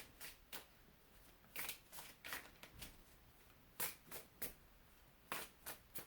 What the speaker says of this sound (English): I'm gonna shuffle and see what comes up